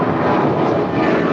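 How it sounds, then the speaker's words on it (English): A Sun Country airliner rolls along the north-side runway at Los Angeles airport, giving a brief, steady, fairly loud engine rumble and rush with no voices. "Sun Country is now rolling on the north side"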